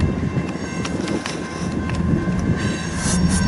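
Freight trains roll through a rail yard with a loud, continuous rumble, steady clicking of wheels over track joints and faint metallic squeals, close by and without voices.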